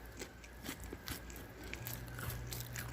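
Crunchy turkey-topped pizza crust bitten and chewed close up, several sharp crackling crunches over about three seconds, with no talking.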